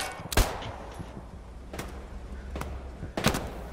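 Pistol shots in a shooter video game, four sharp, loud separate cracks spaced irregularly over a low background hum.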